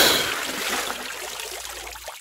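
Shower water runs steadily in a bathroom as a radio drama effect, a close, even rushing stream that fades slightly toward the end.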